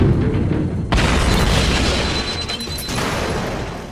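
Grenades explode at a jail in a loud, sustained blast: a sharp boom lands about one second in and rolls into a long, dense rumble that fills the rest of the sound with no voices present.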